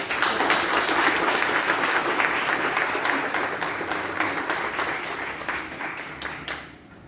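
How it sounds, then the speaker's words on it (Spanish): Congregants at a Catholic mass break into applause: a full, close burst of many hands clapping that holds steady, then thins and fades away near the end. "un aplauso para él"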